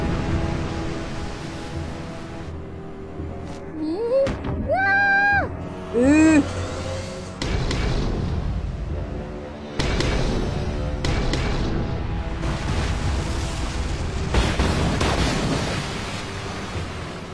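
Heavy booming blasts of ship cannon fire roll out in bursts, with rumbling echoes, shouting voices and whistling tones between the shots.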